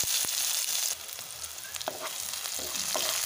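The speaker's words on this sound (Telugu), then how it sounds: "సన్నగా తరిగిన ఉల్లిగడ్డల్ని అయితే మంచిగా రెడ్డిష్ కలర్ వచ్చే వరకు అయితే ఫ్రై చేసుకోవాలి" Thinly sliced onions, cumin seeds and curry leaves fry in hot oil for a Telugu pointed gourd dish, giving a steady, close sizzling hiss with a few sharp spatters and stirring ticks, and no talk.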